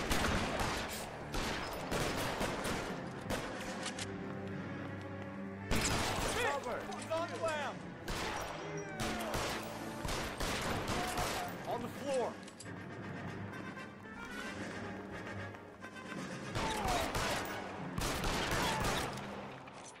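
Gunshots in the video game L.A. Noire: rapid sharp volleys and single cracks come in clustered bursts, loud and close, while someone talks between and over the shots.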